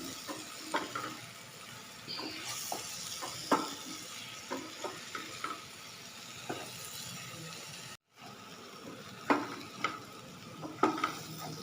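Potato and capsicum sabji stirred and cooked in a pan, with a soft steady sizzle under intermittent scraping and clinking of the spoon against the pan, close and fairly quiet.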